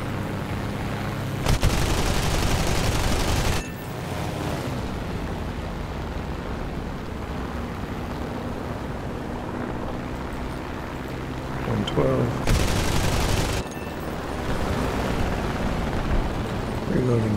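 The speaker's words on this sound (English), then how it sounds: "Cannons." Aircraft cannons fire in long rapid bursts during War Thunder Air Arcade play with an M.S.410 fighter, two loud sustained volleys standing out over a steady engine drone.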